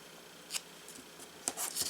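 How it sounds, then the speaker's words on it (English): Old surgical tape is torn off the roll in short, sharp rips, one near the start and a quicker cluster of two or three toward the end, close and crisp over a quiet room. "Rip it off and stick it down."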